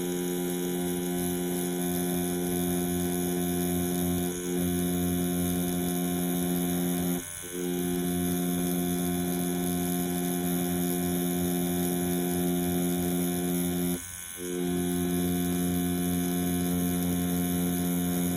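A tattoo machine fitted with a 9 mag needle cartridge packing black ink runs with a steady, close electric hum and buzz throughout, briefly cutting out twice before resuming.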